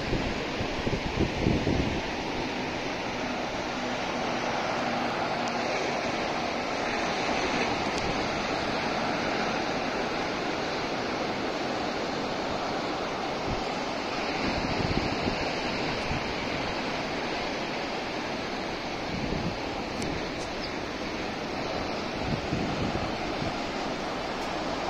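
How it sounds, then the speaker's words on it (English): Steady roar of sea waves breaking along the coast at a California beach park, a continuous broadband wash of surf with wind noise and no talking. "the noise you hear in the video is the wave sound which is coming from the sea"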